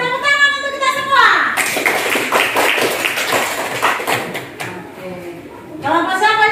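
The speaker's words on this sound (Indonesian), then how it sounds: "tepuk tangan untuk kita semua" A sixth-grade class of children bursts into applause in a classroom, a few seconds of dense, lively clapping framed by a teacher's voice before and after.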